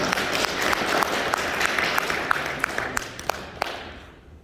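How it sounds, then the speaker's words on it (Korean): A crowd applauds steadily at a labor union chairman election campaign speech in a room, dense clapping with a few sharper claps standing out, then fading toward the end. "뜨거운 박수로 맞이해 주시기 바랍니다"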